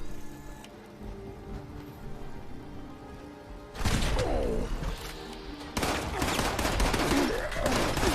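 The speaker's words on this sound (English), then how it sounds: "Let's go Gauss shotgun now." A Gauss shotgun fires in Fallout 76 with heavy, crackling bursts of blasts that start suddenly, pause, then resume. The shots are loud and dense over the game's background ambience.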